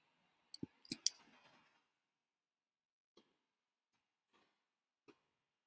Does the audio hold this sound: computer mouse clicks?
yes